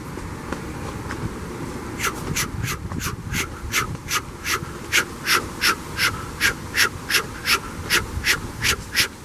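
A voice imitates a steam locomotive chuff, a steady run of short breathy bursts that starts sparse and settles into an even, regular rhythm.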